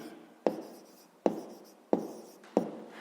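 A pen writes by hand on paper, producing four firm, evenly spaced strokes, each a sharp scratch that trails off, close and clear with no talking.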